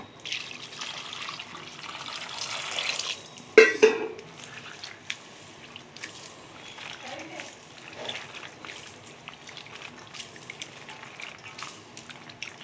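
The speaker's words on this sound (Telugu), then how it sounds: "ఇప్పుడు నీళ్ళు వేసుకొని కడుక్కున్నాము" Running water splashes and trickles steadily as something is rinsed by hand, with a sharp clatter partway through and soft handling noises continuing after.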